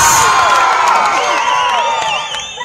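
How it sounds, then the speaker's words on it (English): A stadium audience at a student dance performance at GMC Balayogi Stadium cheers and applauds, a dense, loud wash of crowd noise with shouts and whoops that stays steady and fades slightly toward the end. "Let's give them a big round of applause."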